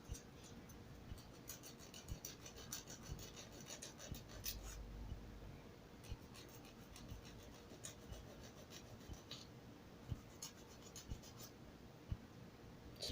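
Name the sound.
filing and shaping gel nails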